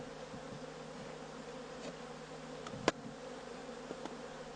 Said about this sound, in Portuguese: Em seguida, as abelhas voltam a trabalhar para fechar o buraco.